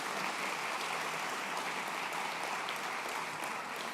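A gala audience at the Hallie Q Brown Community Center claps steadily and densely, a continuous even roar of many hands with no voices over it.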